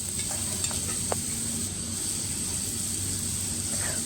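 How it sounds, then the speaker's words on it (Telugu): Onions and curry leaves sautéing in oil in a pan give a soft, steady sizzle with a high hiss, plus a couple of faint utensil taps, quiet and close. "ఆ ఉల్లిగడ్డ ముక్కల్లో కరివేపాకు వేసి మగ్గించాలి."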